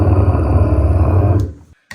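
A voice growls through a Fuzzrocious fuzz pedal on a vocal pedalboard, coming out as a loud, buzzing, heavily distorted drone that holds steady for about a second and a half and then cuts off abruptly.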